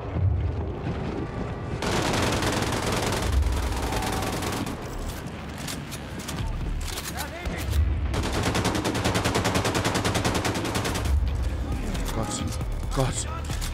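Repeated bursts of rapid automatic gunfire crackle through a Wolfenstein 2: The New Colossus firefight, dense rattling volleys broken by short pauses and thuds, with someone talking over parts of it.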